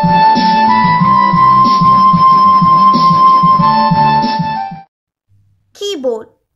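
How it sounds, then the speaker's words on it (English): A keyboard plays a steady, sustained melody with clear tones over a repeating lower accompaniment for almost five seconds, then stops abruptly before a brief spoken voice follows. "This is a sound of keyboard."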